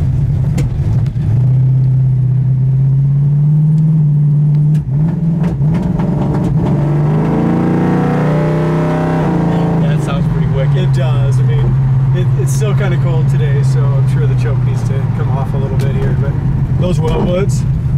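A 1966 Ford Mustang convertible being driven, its engine holding a loud, steady drone up close and swelling into a rev partway through before settling back to an even cruise.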